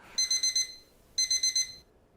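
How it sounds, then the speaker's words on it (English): A digital alarm clock buzzes inside the video game How To Date A Magical Girl, two bursts of four rapid electronic beeps each, separated by a short pause, clear and close with no talk. "greeted by the sight of my alarm clock having a seizure on the floor"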